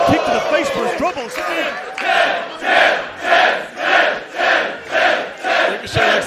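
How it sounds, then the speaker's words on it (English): Wrestling crowd in Belfast roaring in a rhythmic chant, swelling and fading in steady waves after an opening mix of shouts and commentary. "this Belfast crowd is electric"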